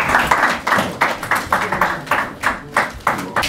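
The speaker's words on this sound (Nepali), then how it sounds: "जोरदार तालीले स्वागत गरिदिनु लागि हार्दिक अनुरोध गर्दछु।" A crowd at a volleyball league championship celebration claps in loose rhythmic unison to welcome players, the sharp beats landing about three per second and close by.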